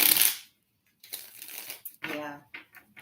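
Tarot cards shuffled in a quick, loud papery burst at the start, followed by a pause and then talking.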